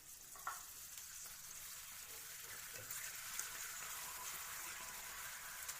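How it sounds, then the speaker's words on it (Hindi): A papad fries in hot oil in a pan with a faint, steady sizzling hiss and a couple of small pops, heard close but at low volume with no voices. "उसमें हम ये पापड़ फ्राई करेंगे।"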